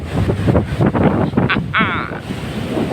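Wind on Boracay island buffets the microphone in loud gusty rumbles, with waves faintly beneath and someone talking over it.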